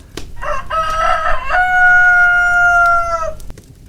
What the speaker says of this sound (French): un beau coq rouge avait battu des ailes et chanté 3 fois